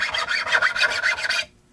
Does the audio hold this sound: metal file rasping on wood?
yes